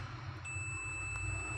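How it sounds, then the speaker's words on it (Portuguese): A steady, high-pitched electronic beep from a multimeter's continuity test sounds continuously from just after the start to the end, over a low background hum, during repair of a Consul Frost Free refrigerator whose lower section is not cooling. "Continuidade bip. Sinal sonoro"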